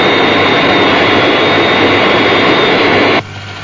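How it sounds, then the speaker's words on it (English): Jet aircraft on its glide path approaching a runway in a science-fiction radio drama, a loud sustained roaring whine with no voices, cut down sharply to a quieter rumble near the end. "Aircraft on glide path, 3 miles to threshold."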